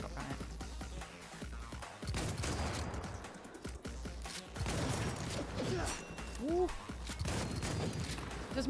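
Fairly quiet bursts of gunfire from a heavy-recoil gun in Cyberpunk sound in clusters over background game ambience, with a short electronic chirp near the end.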